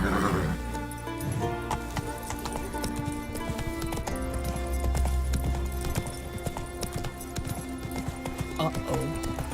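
Roach, a horse in The Witcher 3, gallops with rapid, continuous hoof clip-clops and lets out whinnies, layered under game music and effects, with a voice speaking over it.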